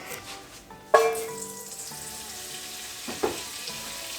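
Butter hits a hot pan on medium heat with a sudden sizzling burst that settles into a quieter, steady fizz, followed by a brief clink.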